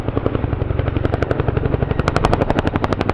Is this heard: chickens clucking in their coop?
no